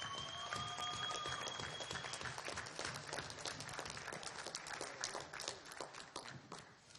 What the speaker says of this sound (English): Give a round of applause to our final 12.